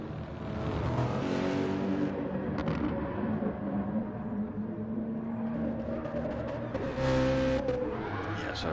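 A Renault race car in a racing video game skids under handbrake, tyre squeal and engine revving rising and falling over steady motor drone, with other cars audible around it.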